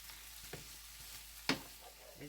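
Pre-sliced gyro meat browning in a pan at home, a faint steady sizzle broken by a few soft scrapes and one sharper crackling spatter midway. Close and quiet, with no speech.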